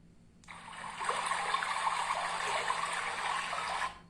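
A water sound effect from a minimalist MIUI 13 phone theme: a steady trickling, flowing wash starts abruptly, holds evenly for about three seconds at moderate level, then cuts off.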